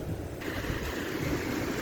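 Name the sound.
ocean waves on the Shizuoka coast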